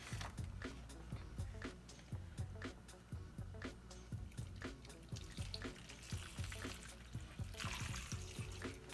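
Lye water trickles and splashes steadily into a container while making cold process soap, a continuous watery pour with irregular drips and clinks, fairly quiet and with no talking.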